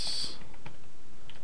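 Short burst of typing on a computer keyboard, a few quick close clicks of keys over about a second, with no voices.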